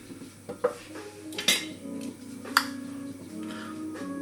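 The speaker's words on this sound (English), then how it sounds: "I'm supposed to stir it with a wooden spoon" A wooden spoon stirs a blue-cheese mixture in a pot, giving scattered knocks and scrapes against the cookware, a few sharp clinks standing out over a low steady background.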